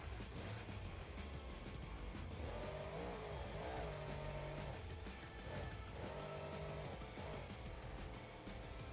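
A car engine hums and revs steadily in BeamNG.Drive, a Chevrolet C10-bodied monster truck build, the tone rising and falling in two swells over a constant low drone, fairly quiet and with no talk.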